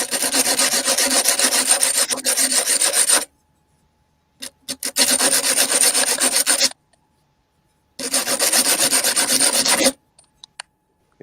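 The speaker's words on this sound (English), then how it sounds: "Is that actually sanding the glass?" Three long stretches of steady, gritty rasping as sandpaper rubs back and forth against glass, separated by short pauses with a few light taps.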